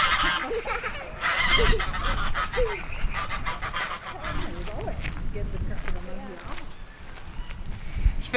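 Geese honking repeatedly in a noisy, gusty outdoor spot, their calls overlapping with wind rumble while a person talks over them at close range.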